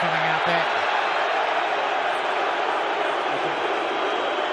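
A large stadium crowd at a South Africa vs Australia rugby sevens match in Cape Town makes a dense, loud, steady roar of grumbling disapproval with no pauses.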